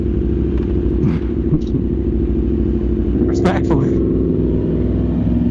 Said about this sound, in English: It is crazy how much louder your bike is.